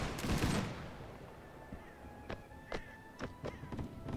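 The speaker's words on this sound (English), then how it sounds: "we will give volley fire with the line infantry" Musket volley fire from line infantry in the Napoleonic game L'aigle: one loud burst followed by scattered distant crackling shots in an irregular sequence.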